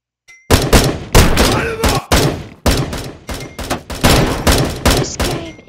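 Rapid bursts of gunfire from the video game Bullet Force, loud and close, fire in repeated volleys with brief gaps over several seconds.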